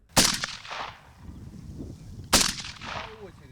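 Two loud, sharp assault rifle gunshots about two seconds apart at a shooting range, each followed by a short echo across open ground.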